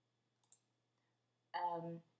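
A computer mouse double-clicking: two quick, soft, faint clicks in near silence, followed shortly by a brief spoken phrase.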